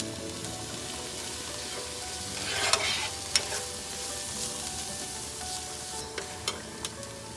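Bok choy hits a hot pan with garlic and sizzles steadily, close and loud, with a few sharp clacks of stirring and utensil taps scattered through.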